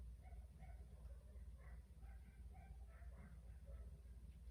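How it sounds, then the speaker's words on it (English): Dogs bark and yip in the distance, faint and scattered, with a low background hum throughout. "Got disrupted by the dogs barking."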